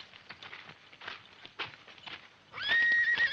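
Horse hooves clop in a scattered rhythm in a Western film scene, and then a horse gives a loud, shrill neigh that runs through the final second.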